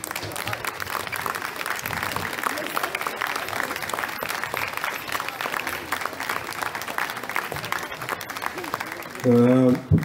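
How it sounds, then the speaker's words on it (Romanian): School audience at a jazz festival stage applauds steadily for about nine seconds, a dense crowd clapping that stays even, then a brief voice cuts in at the end. "să aplaudăm."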